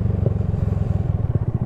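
Idling engine of a Honda Supra motorcycle fitted with a 190 cc Daytona engine, running on Shell V-Power fuel: a steady, close, loud low rumble with rapid even pulsing and a few brief revs, no speech.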